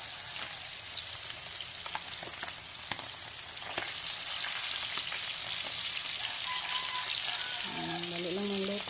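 Fried food sizzles and crackles steadily in a hot pan, close and loud, with a few sharp pops and a voice talking briefly toward the end.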